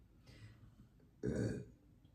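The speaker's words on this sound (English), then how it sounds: "Because when the fuck have I burped this whole time?" A single low, throaty burp rolls out for about half a second, loud and close, following a fainter vocal murmur in a quiet indoor room.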